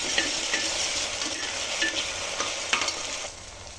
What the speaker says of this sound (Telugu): ఇప్పుడు అల్లం వెల్లుల్లి పేస్ట్ వేసేసుకుందాం మనము.